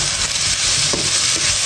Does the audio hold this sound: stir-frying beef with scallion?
yes